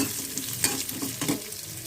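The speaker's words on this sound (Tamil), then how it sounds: "நல்லா வெங்காயம் வதங்கிடுச்சு" Onions fry in a pan for Chettinad mutton gravy, with a continuous close sizzle broken by a few soft stirring scrapes and no voices.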